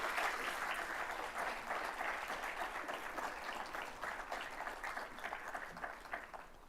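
Sustained applause fills the hall at a business school awards ceremony at Lincoln Center, honoring marketing scholars; a dense, even roar of many hands continues for the whole stretch without talk.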